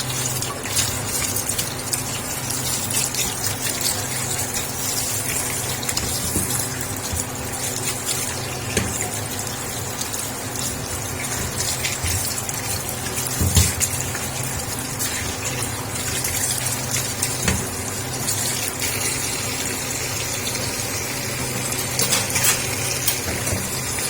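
Running water flows steadily from a tap while bitter gourds are rinsed and handled, with light clinks and splashes throughout.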